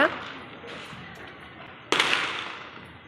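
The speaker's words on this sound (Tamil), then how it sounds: "எவ்வளோ பட்டாசு வெடிக்கிற சத்தம் கேட்குதுன்னு" Distant firecrackers pop and crackle outdoors during a puja in Chhattisgarh, India, with one sharp, louder burst near the end, over faint background noise.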